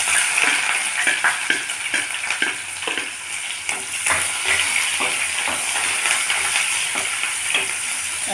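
Onions and green chilies frying in about two spoons of hot oil in a pressure cooker for a mixed vegetable curry, a steady close sizzle broken by repeated scraping stir strokes.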